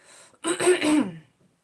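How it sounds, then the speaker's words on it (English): A single drawn-out throat clearing, close and moderately loud, with a gravelly rasp that trails off into quiet. "I'll try to clear my throat the least that I can"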